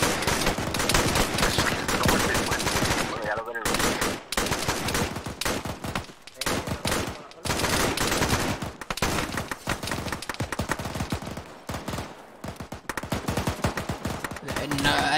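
Rapid bursts of automatic gunfire rattle loud and close in an airsoft-style skirmish, with rhythmic volleys broken by short pauses; speech is faint or absent.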